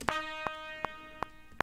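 A synthesized trumpet section from a game song for Roblox Mad City Chapter 2 plays alone, a quiet sustained brassy tone marked by short evenly spaced accents.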